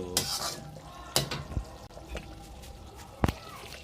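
Chunky potatoes frying in oil, soft sizzle under a few sharp clanks and scrapes of a utensil stirring the pan, close and fairly quiet, no talking.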